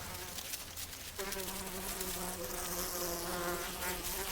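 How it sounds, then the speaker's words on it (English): Male centris bees buzz steadily and close by, a dense continuous drone with a sharper, louder hum joining partway through. "As soon as male centris bees hatch, they start to hunt for the scent of the females emerging from under the ground."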